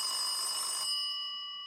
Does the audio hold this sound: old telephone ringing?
yes